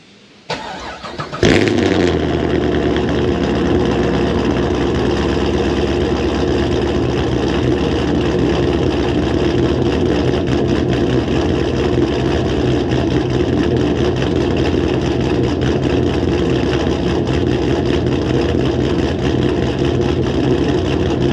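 A Pontiac GTO V8 cranks briefly, catches and roars to life, then settles into a loud, steady, rumbling idle close by for the rest of the time, with no talking.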